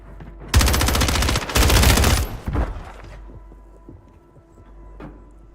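Rapid automatic gunfire in Call of Duty on Rebirth Island, loud close bursts of sustained machine-gun fire for about two seconds, then scattered softer shots and faint game ambience.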